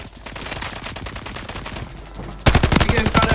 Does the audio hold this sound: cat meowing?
no